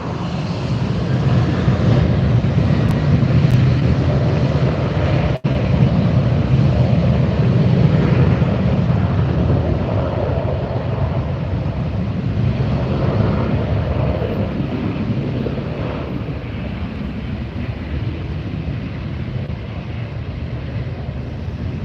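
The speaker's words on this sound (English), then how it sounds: "you really get the full impact of the roar of the engines" A Boeing 737-900ER at LAX airport gives a loud, sustained jet engine roar that stays close and steady, slowly easing off toward the end, with some wind buffeting on the microphone.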